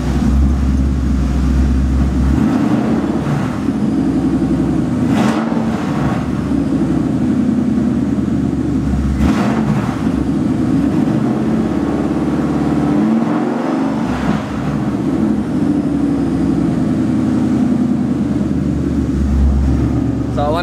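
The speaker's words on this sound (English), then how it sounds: "Motor sounds good." A car motor idles steadily nearby, a loud, continuous low rumble with small variations in revs, running under intermittent talking throughout.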